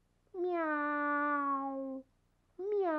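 A cat gives one long, drawn-out meow, then a second meow begins after a short pause, clear and close in a quiet room.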